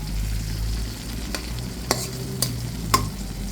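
Hilsa fish frying in mustard oil hisses softly and steadily, with three or four sharp clinks and scrapes of a utensil against the pan.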